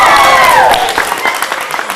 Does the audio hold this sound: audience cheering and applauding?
yes